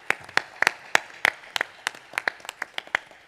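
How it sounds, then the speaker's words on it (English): Sparse, distinct handclaps from a small audience at a Coast Guard Auxiliary national event, individual sharp claps in an irregular rhythm rather than a dense roar, fairly close and clear. "if I could just get a round of applause for them"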